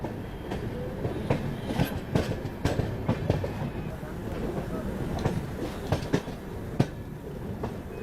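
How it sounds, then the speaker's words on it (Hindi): The Rajdhani Express pulls into Jhansi Junction railway station with a loud, near, rhythmic clatter of wheels over rail joints, heavy rumbling, and sharp metallic clanks that continue steadily throughout. "चलिए फाइनली अपनी राजधानी एक्सप्रेस एंट्री ले रही है झांसी जंक्शन रेलवे स्टेशन में।"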